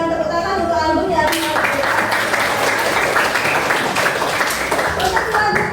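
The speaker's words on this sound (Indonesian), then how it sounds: "berikan tepuk tangan untuk album ya" A class claps and applauds together, starting abruptly after a teacher's voice and continuing as dense, steady clapping for several seconds.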